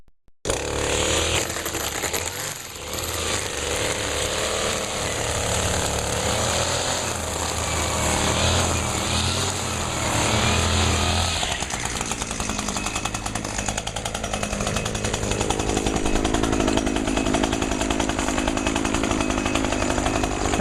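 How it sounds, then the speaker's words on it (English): A gas-powered lawn trimmer cuts grass in a residential yard, its loud, buzzing two-stroke whine running continuously and close by with slight shifts in pitch as it works. "now we'll start trimming."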